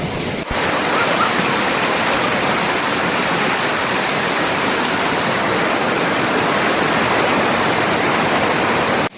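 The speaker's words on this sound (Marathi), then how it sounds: "जिथे आवाज खूप येतोय पाण्याचा" A forest stream and waterfall on the jungle trail to Gupt Bhimashankar roar as a loud, steady, continuous wash of rushing water that fills the whole stretch without a break.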